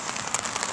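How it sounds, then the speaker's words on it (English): Rain falls steadily at an outdoor boys' soccer game on a cold morning, a dense broadband hiss of drops with no voices. "it's raining and it's cold"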